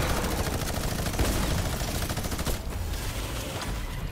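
A minigun firing in Fortnite during a competitive match, a loud, unbroken rattle of rapid shots holding steady for several seconds with no talk over it.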